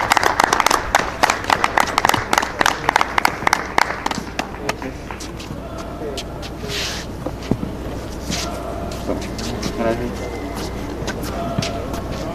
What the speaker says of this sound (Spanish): un fuerte aplauso al campeón de la categoría D, Enrique Bretón